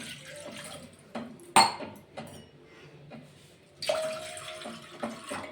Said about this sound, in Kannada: ಈಗ 2 ಗ್ಲಾಸ್ ತಣ್ಣೀರು ಹಾಕೋತಾ ಇದ್ದೀನಿ